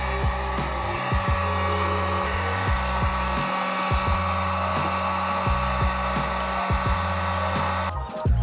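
A heat gun warms vinyl wrap on car interior trim, blowing with a loud steady whir throughout, briefly cut by short clicks and dips, with no talking.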